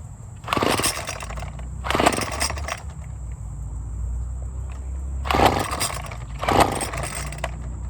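A Hyper Tough 25cc weed eater with a freshly blown-out carburetor is pulled over four times in two pairs. Each rasping crank burst lasts under a second over a faint background hum, and the engine never catches.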